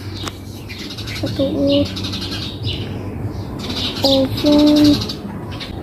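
An injured sparrow chick gives a few sharp, thin chirps close by, in two short clusters, while people talk quietly nearby.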